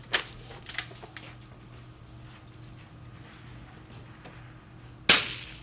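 Rimfire rifle shots fired at steel targets in a precision rifle match at a gun club, with two sharp reports about five seconds apart, the first near the start and the second louder near the end, over quiet outdoor background.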